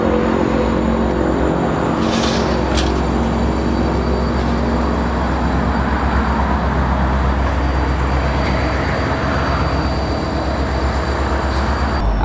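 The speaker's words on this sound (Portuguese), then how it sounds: "a todo momento passa trem de carga no meio." A freight train passes through a town on the Trans-Canada railway line, giving a loud, steady rumble and grinding roar that holds for the whole stretch, with faint higher squeals now and then.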